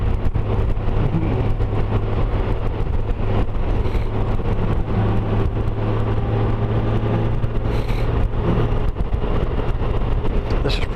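A motorcycle ridden along a country road past rye fields sends a steady, loud engine drone with constant wind rush, continuous and close throughout.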